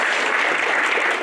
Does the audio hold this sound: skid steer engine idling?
no